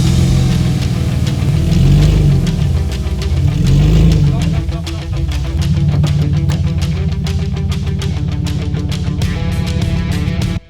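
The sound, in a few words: burnout car engine revving while moving the motor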